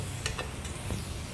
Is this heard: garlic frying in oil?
yes